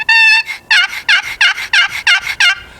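A turkey box call rings out a clear, raspy yelp: one drawn-out note followed by a quick run of about eight loud, evenly spaced yelps.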